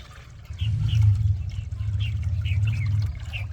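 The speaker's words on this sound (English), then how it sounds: "take a 5-gallon bucket and add 10 liters of clean water." Water pours and splashes steadily into a 5-gallon bucket, about 10 liters, a continuous gurgling stream with bright trickling splashes on top.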